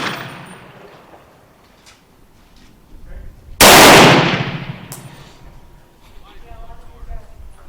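A rifle fires a single loud shot of reloaded 7.62x39 ammunition outdoors, a sharp blast with a ringing decay, followed by a faint metallic clink, with quiet background noise before and after.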